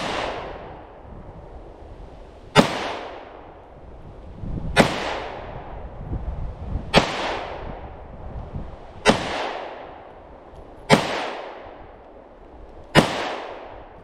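An FK BRNO pistol fires at a target outdoors in six sharp, loud single shots, spaced about two seconds apart, each with a long decaying echo.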